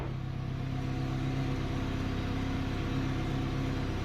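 A Mazda Miata engine holds a loud, steady low rumble, droning evenly throughout with no distinct rise in revs.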